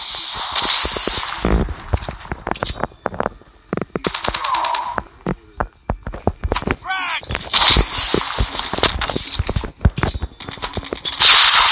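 A silenced MP5 submachine gun fires in a video game, rapid bursts of sharp shots in close, dense clusters with brief gaps, alongside other game effects and some voice chat.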